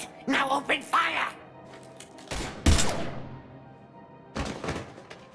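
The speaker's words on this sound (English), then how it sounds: "Now open fire!" Short bursts of gunfire crack out in the sci-fi shooter Mass Effect 3, with a sharp volley in the middle and another later, separated by quieter gaps, after someone speaks at the start.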